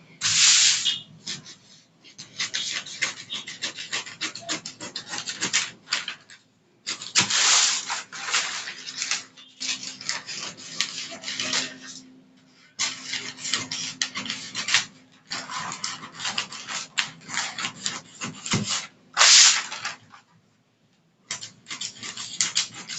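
Scissors cut through fabric for a corset in repeated bursts of crisp snipping and rasping, close by, separated by short pauses, with no talk.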